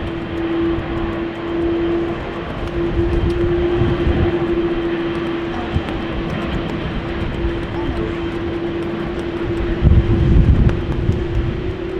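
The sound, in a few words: Finnair Airbus A350 jet engines at Amsterdam Schiphol Airport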